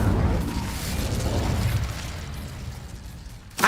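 A fire spell, Incendio, cast in Hogwarts Legacy: a whooshing, roaring burst of flame that swells and fades over a few seconds, followed by a sharp pop near the end.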